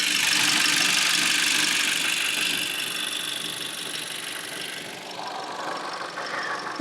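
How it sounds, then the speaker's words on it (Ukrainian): The engine of a Volkswagen Passat B7 with 110,000 km runs under the open hood, a steady close hum with a fine ticking texture that eases slightly toward the end. "І ось такий тут двигун. Отак він працює, вам повинно бути чуть його."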